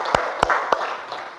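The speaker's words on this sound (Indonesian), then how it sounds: "Tepuk tangan dulu untuk semuanya." Children clapping in a classroom during a teacher's lesson: three sharp, evenly spaced claps close by, followed by a softer, quieter tail.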